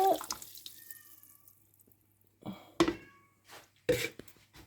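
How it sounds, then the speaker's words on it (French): A water and flour mixture is poured into a cooking pot for a rabbit chasseur sauce, heard as a few separate close splashing bursts with quiet gaps between them. "je vais rajouter mon mélange d'eau et de farine"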